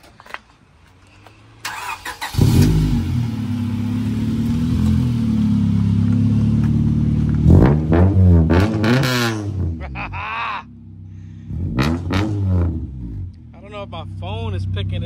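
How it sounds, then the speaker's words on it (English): A Honda Civic Type R EK9 engine cranks and fires up, then idles loudly before several sharp exhaust revs rise and fall; voices speak over it. "That exhaust is crazy loud, though."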